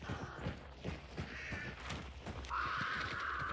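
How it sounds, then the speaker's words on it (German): Raven cawing in the game Hunt: Showdown, a run of harsh caws followed by a burst of wingbeats as it flies off, fairly close over a low ambient bed. "Ist ein Raben geflogen"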